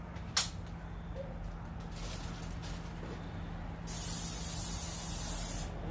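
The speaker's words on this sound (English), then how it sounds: "Oil spray on that." Cooking oil sprayed onto a heated pan, a steady broadband aerosol hiss lasting about two seconds after a brief click and faint background noise, loud and close with no talking.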